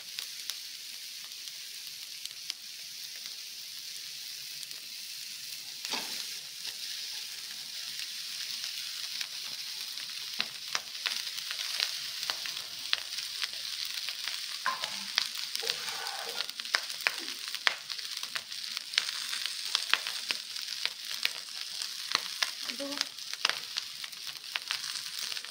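Cooked rice fries in a hot pan with a continuous soft sizzle, joined by intermittent scraping and stirring knocks that grow more frequent over the long stretch.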